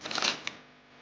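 Playing cards riffle-shuffled in a short quick burst of soft papery flutter, followed by one brief tap, close and faint, lasting under half a second.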